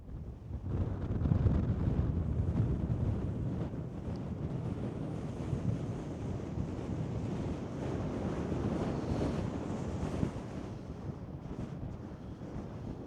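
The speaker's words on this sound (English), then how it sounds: "It's windy. Not as windy as it normally is up here" Cool wind blowing across a hilltop, a steady low rumbling buffet against the microphone that rises and falls slightly, continuous with no voices.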